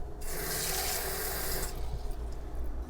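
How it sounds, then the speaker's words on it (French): Water poured into thick crêpe batter, a close, bright rushing splash lasting about a second and a half, then fading to softer mixing sounds. "On va ajouter un peu de l'eau."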